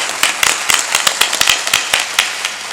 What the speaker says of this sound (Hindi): जोर से मारा करो ताली